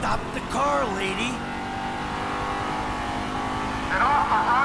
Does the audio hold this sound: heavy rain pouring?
no